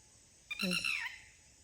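A single short bird call outdoors near a fishing spot, a brief clear tonal cry lasting about half a second over a quiet background.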